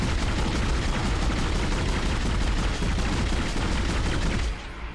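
Rapid, continuous weapon fire from a gun in the Dead Space video game, a dense, loud stream of shots that runs steadily for several seconds and then cuts off abruptly near the end.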